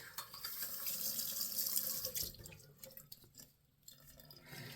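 Tap water runs steadily into a sink as something is rinsed, a broad splashing rush for about two seconds that then thins to gentler trickles and drips.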